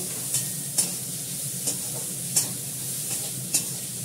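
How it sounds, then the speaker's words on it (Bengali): Onion frying in a little mustard oil in a pan, a soft steady sizzle with periodic sharp stirring scrapes roughly every second, close and moderately quiet, no voices. "সর্ষের তেল দিচ্ছি অল্প সামান্য একটু, দিয়ে এটাকে পেঁয়াজটাকে ভালো করে ভেজে নেব।"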